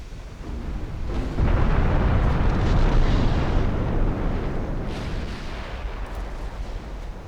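A warship's flash fire explosion during a naval battle in Ultimate Admiral Dreadnoughts: a loud, rumbling roar that swells and holds for several seconds before slowly fading, with scattered distant thuds.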